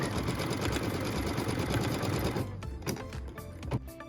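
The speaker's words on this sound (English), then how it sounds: "What we're stitching now is a tack down line and cut line" A sewing machine stitches a tack down line through quilt fabric, running in a fast, steady close-up whir for over two seconds before slowing into a few uneven bursts and stops.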